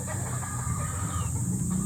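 A hen clucks in low, throaty bursts close by over a constant background hum, with faint other fowl sounds mixed in and no talking.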